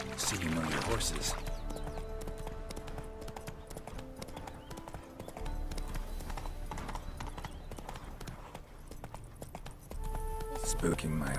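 A horse's hooves clip-clop steadily at a riding pace in The Witcher 3: Hearts of Stone, joined by game music and ambience, with talking over the hoofbeats.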